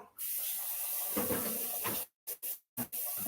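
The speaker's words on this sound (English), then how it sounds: "I run cold water in it, and then I'll sit there and do an ice bath after that." Cold water runs steadily from a kitchen tap to cool freshly cooked eggs: a loud, close, continuous splashing hiss that breaks into a few short bursts at the end as the flow is cut and restarted.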